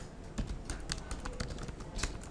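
Quick, steady keystrokes on a computer keyboard as notes are written out, a close run of light clicks with small bursts and brief pauses and no voices.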